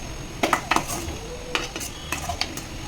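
Mint and tamarind sauté in a pan for a mint chutney, a light sizzle beneath sharp clinks and scrapes of a metal spoon stirring against the pan, close up and without talk.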